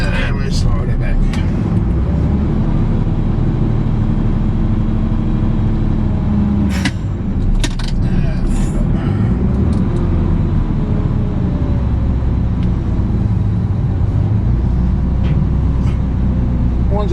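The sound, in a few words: lorry unloading a skip bin by sliding it back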